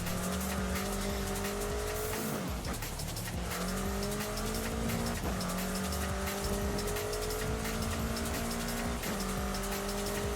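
A tuned four-wheel-drive Ford Bronco racing in Forza Horizon 5, its engine droning loudly and continuously as gears shift, with repeated tire squeals and skids through corners; no voices.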